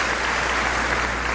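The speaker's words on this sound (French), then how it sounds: "On va les applaudir aussi, les frères et sœurs." A church congregation applauds in a steady, dense wash of clapping that carries evenly from start to finish with no voices over it.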